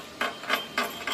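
Four sharp, evenly spaced taps as slag is chipped off a 1/16 inch 7014 electrode weld bead laid with a Miller Thunderbolt 210, close and fairly quiet.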